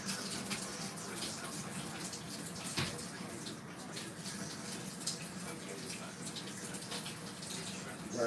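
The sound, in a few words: rinsing something out under running tap water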